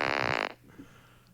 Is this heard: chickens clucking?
no